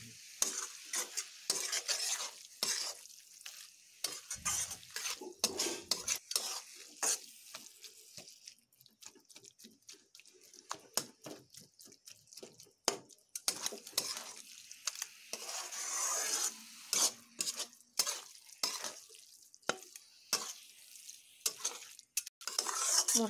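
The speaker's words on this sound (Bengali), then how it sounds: "মশলাগুলোকে ভালোভাবে মিশিয়ে একটু টাইম দিয়েই কষিয়ে নেব।" Spices are stir-fried with chopped giant taro stems in a pan, a steady close sizzle broken by frequent scraping clatters of a spatula against the metal, with no voices.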